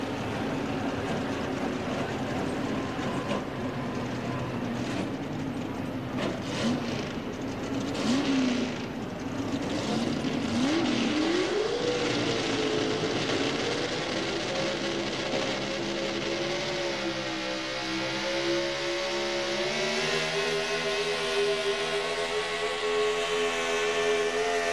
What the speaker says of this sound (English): Strong running Chevy truck getting set to go.